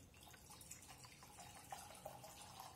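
Rubbing alcohol is poured into a bottle for homemade hand sanitizer, giving a faint, soft trickle with light drips at a low level throughout.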